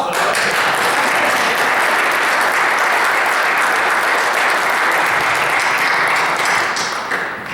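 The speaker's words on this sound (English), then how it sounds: "I'll take an applause for that." An audience at a community event breaks into sustained applause, dense and loud throughout, tapering slightly at the end.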